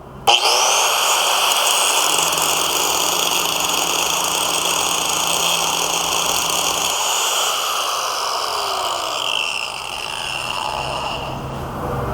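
An angle grinder fitted with a one-touch coupler cuts through material, a loud, steady high-pitched whine with grinding roughness that holds throughout, slightly shifting in tone near the end, with no talk.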